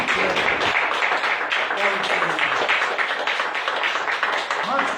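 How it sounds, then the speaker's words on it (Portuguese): A church congregation claps during an evening service, a dense and fairly loud run of applause with voices mixed in beneath it. "Dê uma salva de palmas"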